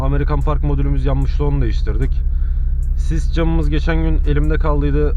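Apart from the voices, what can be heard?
No distinct noise like a dog, phone or traffic.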